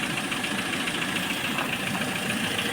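Lada Priora (VAZ) car engine idling with a suspected internal knock, a constant close-up mechanical clatter and hum with fast, even ticking throughout, without any talk.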